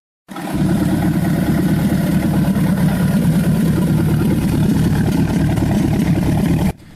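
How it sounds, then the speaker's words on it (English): A MerCruiser boat engine with a freshly rebuilt carburetor runs steadily and loudly, a constant low rumbling drone from start-up to cutoff with no talk. "The engine was running much better after that"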